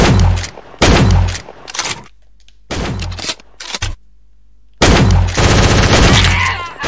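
Video game gunfire in Fortnite comes in loud, close bursts of rapid shots separated by short silent gaps, with a longer sustained volley near the end.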